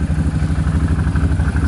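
The engine of a 2015 Can-Am Maverick 1000R Turbo off-road vehicle runs close by with a rapid, throbbing pulse, its revs climbing briefly in a short burst of low, chugging engine noise.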